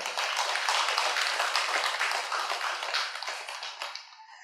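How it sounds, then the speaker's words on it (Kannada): A loud, sustained round of clapping from an audience at a spiritual meditation talk, dense and steady for several seconds before thinning out and fading at the end. "ಈ ಒಂದು ಅದ್ಭುತವಾದ ಆನಂದ ಕೊಟ್ಟಂತ ಪರಮಾತ್ಮನಿಗೆ, ವಿಶ್ವಶಕ್ತಿ ಅನಂತ ಶಕ್ತಿಗೆ ಒಂದು ಜೋರಾದ ಚಪ್ಪಾಳೆ ನೋಡೋಣ"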